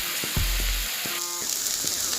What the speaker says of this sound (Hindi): थोड़ा सा चट चट करने लगा, इसका मतलब अच्छा से फ्राई हो गया।